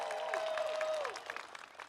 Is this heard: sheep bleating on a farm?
no